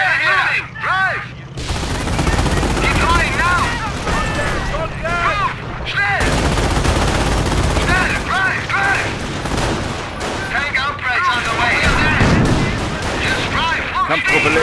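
Gunfire in the WWII video game Operation Market Garden, dense and continuous volleys of rifle and machine-gun shots with booming impacts, loud and sustained, with shouted voices mixed in.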